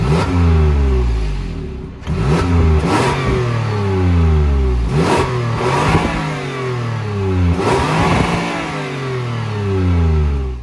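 A 2022 Toyota Highlander XSE's 3.5-liter V6 is revved repeatedly, climbing in pitch with each blip and falling back between, about four strong rises over a steady idle, loud and close with no talk.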